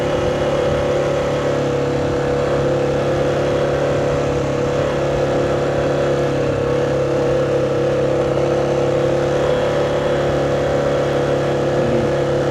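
A steady, loud motorcycle engine drones continuously with rough gravel-road rumble underneath, no voices.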